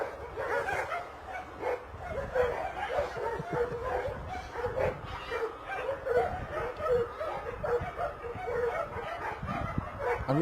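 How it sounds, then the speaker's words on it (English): A dog barks and yips repeatedly at another dog passing by, an excited run of close, uneven barks with some whimpers, heard outdoors near Bristol Airport. "That's generally what happens when another dog dares to come past."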